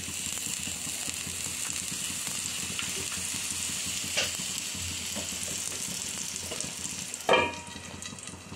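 A ragi roti fries in ghee on a pan with a soft continuous sizzle, punctuated by light scraping and tapping of a utensil and a brief louder clatter near the end; no speech.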